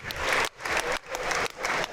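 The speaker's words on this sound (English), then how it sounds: "I hope the audience stands up and gives these two a massive round of applause." Applause for two junior K1 kickboxing fighters at the end of a bout, loud crowd clapping in short surging bursts with brief dips between them.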